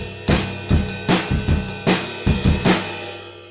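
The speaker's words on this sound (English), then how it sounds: "So it's 3 counts of the bass drum." A drum pattern from a song: punchy bass drum hits with crashing cymbal-like wash, about eight strikes in an uneven rhythm, loud and close.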